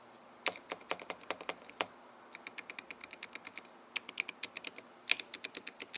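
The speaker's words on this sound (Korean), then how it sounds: "소리가 이상하죠. 약간 찔꺽찔꺽 거리는 소리 같은." A water-damaged MacBook Pro keyboard from the 2016–2017 Touch Bar generation is tapped in close, rapid bursts of clicks with short pauses; some keys give a slightly squishy, sticky sound. No one speaks.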